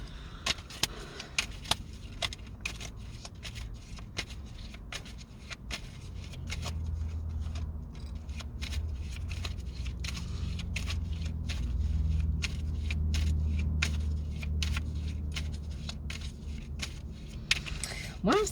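Tarot cards are shuffled up close in a long run of crisp, rapid riffling clicks and snaps, quiet and steady over a low background rumble, with no talking.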